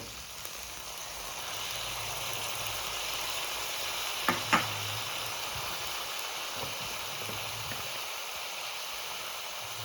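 Chopped tomato frying in a hot pan gives a steady, dense sizzle throughout, broken by a couple of brief knocks near the middle.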